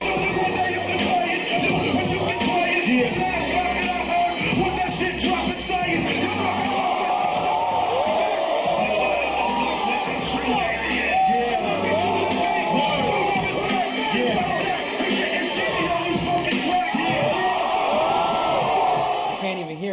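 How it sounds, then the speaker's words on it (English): Large freestyle rap event crowd screaming and cheering in a dense, continuous roar, loud and close, with voices shouting over it throughout. "people are screaming in the crowd"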